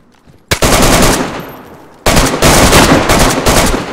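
Video game gunfire rings out in two loud, close bursts of rapid automatic shots, the first trailing off into a decaying echo before the second volley begins, with no talk over it.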